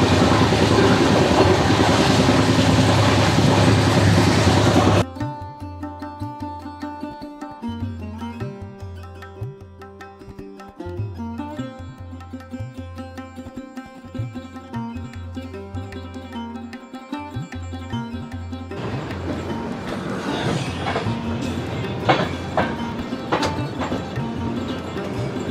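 The 12369 Kumbha Express from Howrah to Haridwar rumbles loudly through its carriage for the first few seconds. Music then takes over, and the steady rolling train noise returns near the end.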